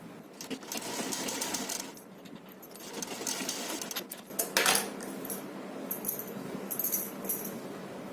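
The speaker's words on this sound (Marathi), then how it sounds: "आता इथून मी एक पाव इंचाची शिलाई मारणार आहे." A sewing machine runs a quarter-inch seam through fabric for a one-year-old girl's nauvari saree. It gives off a steady mechanical whir with small clicks and rattles, close by, stopping briefly now and then. No voices.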